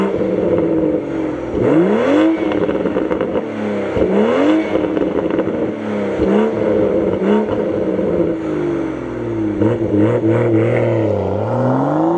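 A 2026 Toyota GR Supra with a BMW-derived single-turbo straight-six starts up and revs repeatedly, each loud rev climbing and dropping back to a close, steady idle.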